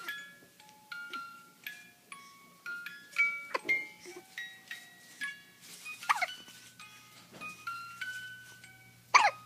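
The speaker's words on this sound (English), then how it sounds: "Hiccups. Hiccups." A child hiccups repeatedly in short, sharp bursts spaced irregularly over several seconds, fairly quiet and close, with no talking.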